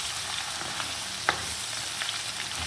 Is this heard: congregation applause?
no